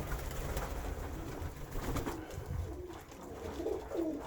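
Domestic pigeons cooing in a pigeon loft, soft low rolling coos repeating over quiet background rustle, faint and close.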